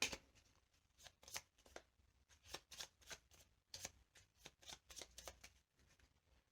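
Playing cards from a Marvel Champions deck are shuffled in a series of crisp riffles and flicks, close and quiet, with bursts repeating at an irregular pace and no voices.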